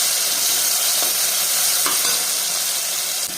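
Crushed onion with cinnamon and cloves fries in a pan for a village-style country chicken curry, giving a steady, loud, dense sizzle with faint stirring scrapes throughout.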